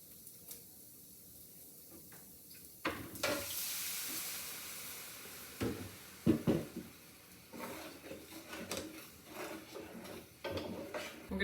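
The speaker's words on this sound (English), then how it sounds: "we're going to add 1 cup right now of cold milk" Cold milk hitting a hot sausage pan for gravy, a quiet hiss that swells into sizzling, with scraping and stirring clatter and scattered louder knocks from utensils.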